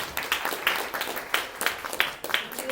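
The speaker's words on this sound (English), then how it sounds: "Let's get one last round of applause for our amazing speaker." An audience at the close of a talk event breaks into a round of applause for the speaker: dense, steady clapping from many hands, moderately loud and sustained for the whole stretch with no voices over it.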